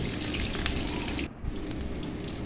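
Waterlily pakoda frying in oil in a wok, a steady dense sizzle that carries on evenly with one brief dip partway through.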